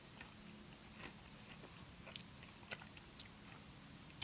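Someone chews a crunchy dark-flour chocolate-covered biscuit close up, producing faint, irregular crunches and bites over a quiet steady background hiss.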